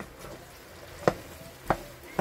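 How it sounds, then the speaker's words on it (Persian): Eggplant frying in a pan gives a steady low sizzle, with a few sharp scrapes and clinks as a utensil stirs it at intervals. "اینا رو ما شور میکنم."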